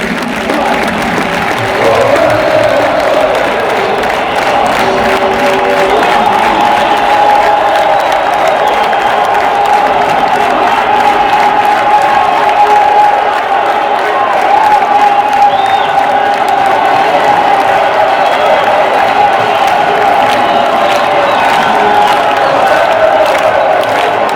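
A stadium crowd gives the champions a sustained ovation, with steady loud applause, cheering and whoops filling the air without a break for over twenty seconds.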